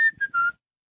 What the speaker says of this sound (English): No, it's just whistling.